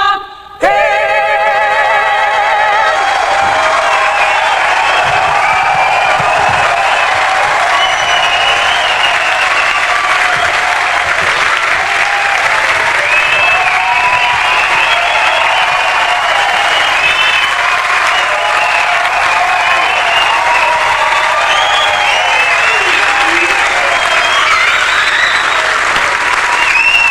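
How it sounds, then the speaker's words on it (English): An audience applauds to welcome Jim Carrey on stage at a stand-up comedy show: steady, loud, continuous clapping from a large crowd that lasts without a break. "Put your hands together and welcome him."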